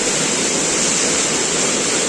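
Pan de Azúcar waterfall roaring in a steady, dense rush of falling water, loud and unbroken throughout with no voices.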